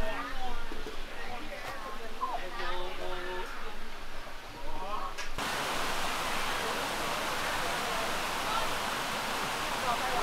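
A river in Thailand flows with a steady, loud broadband rush of water that fills the second half, following a stretch of people talking over a quieter background.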